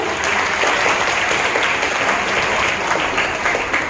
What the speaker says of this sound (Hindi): सभी प्रतिभागियों के लिए एक जोरदार ताली हो जाए